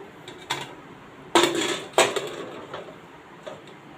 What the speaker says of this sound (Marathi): आता ही डिश मी कुकरमध्ये ठेवून देणार आहे